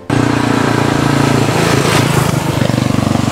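A Royal Enfield Continental GT with a fuel-injected engine and five-speed gearbox, ridden in town: a loud, close, throbbing single-cylinder exhaust that starts abruptly and holds a rapid, steady pulse, briefly rising in pitch midway.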